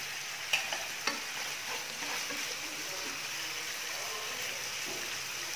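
Shrimp and pork stir-fried in a pan until the liquid cooks off, a steady close sizzle with a few sharp clinks of a utensil against the pan near the start.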